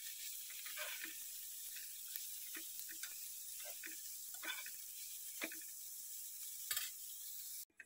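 Grated carrot sizzles in hot oil for an oats and carrot kheer, with a steady soft hiss and repeated scraping clicks from stirring. The sound stays close and moderate throughout, with no speech.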